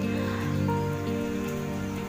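Steady rain falling on a home's surfaces on a morning, a continuous close hiss that holds at an even level throughout with no voices.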